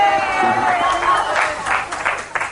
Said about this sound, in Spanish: el aplauso del equipo, entiendo que ha sido el equipo el que estaba ahora vitoreando al alcalde de San Sebastián